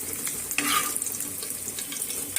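Fish frying in hot oil in a home kitchen, giving a continuous crackling sizzle with brief louder spatters, fairly close and alone, with no talking.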